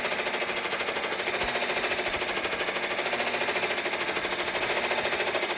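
A Brother Entrepreneur Pro X PR1055X 10-needle embroidery machine stitching at speed, a loud, rapid, even mechanical chatter of needle strikes running continuously up close, with no voices.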